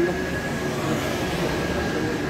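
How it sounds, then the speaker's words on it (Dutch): A train rumbles past at a small Belgian railway station in a steady, close roar with a faint tonal whine on top, no talking. "zie, ik zie nog een trein."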